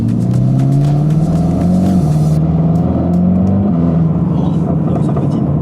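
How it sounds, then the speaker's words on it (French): Dodge Ram truck engine and exhaust note heard from inside at around 2000 rpm in third gear, a loud steady low drone with a slight rise in pitch and a shift midway, continuous throughout. "Oh la ligne, oh le bruit de la ligne."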